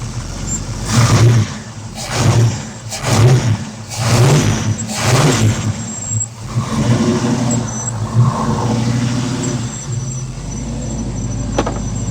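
A 1982 Oldsmobile Cutlass Supreme with a 454 engine and a Holley 4150 four-barrel carburetor revs in several loud, close bursts, then settles into a steady idle.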